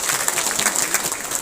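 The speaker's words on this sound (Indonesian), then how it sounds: "Tepuk tangan untuk teman-teman kita." An audience at an Indonesian building-inauguration speech bursts into applause, dense and lively clapping filling the whole moment.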